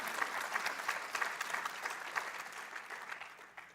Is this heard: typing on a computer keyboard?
no